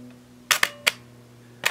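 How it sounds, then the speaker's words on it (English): A Canon AF35M 35mm film camera fires its shutter in dim light, giving a few sharp, close mechanical clicks spaced irregularly against a faint, quiet hum. "Much longer duration shutter speed, which tells me that the metering is controlling the shutter the way it should be."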